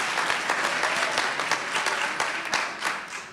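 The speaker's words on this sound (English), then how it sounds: "That deserves a clap right there." Audience at an evening school board business meeting claps for a student's academic honors, a dense, close burst of applause that holds steady for a few seconds before tapering.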